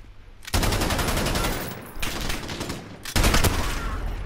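Automatic weapon fire from the shooter game Modern Warfare, played in a 2v2 gunfight match, comes in three loud sustained bursts separated by brief pauses, close and dense, with no talking over it.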